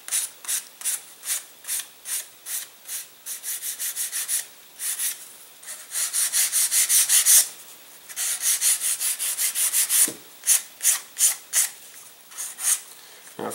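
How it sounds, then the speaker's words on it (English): Light sanding of the foam leading edge of a Protege elastic-launched glider wing, a close series of short rhythmic rasping strokes, some quick and some longer, with brief pauses between. "You just need a very, very light sanding here."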